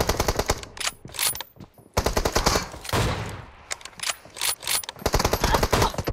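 Rapid automatic gunfire in the mobile battle-royale game PUBG Mobile, dense loud bursts of shots with short gaps, close and continuous across the stretch.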